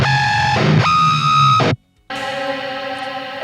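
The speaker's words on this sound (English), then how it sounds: "I wanted an effect that sounded like a whammy pedal" An electric guitar played through a whammy-style pitch effect rings in harsh, bright sustained tones, bending down and back up in pitch, then cuts out briefly before a second sustained chord returns.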